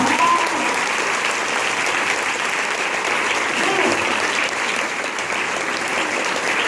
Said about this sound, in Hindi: बनता है इनके लिए ताली बजाना मैन।